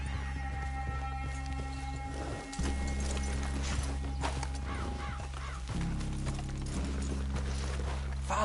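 Horses in Red Dead Redemption 2 clip-clop at a walk with a steady hoof rhythm over a low game soundtrack drone, moderately close with no talk.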